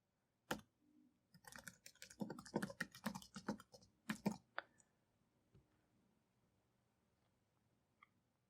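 Close, crisp keystrokes on a computer keyboard as a business email address is typed in, a quick burst of clicks lasting a few seconds, then a couple of isolated taps.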